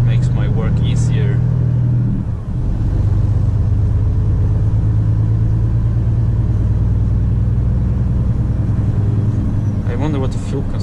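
Volvo FM 410 truck hauling a trailer, a steady low diesel drone and cabin rumble at cruising speed, with a driver talking over the engine noise.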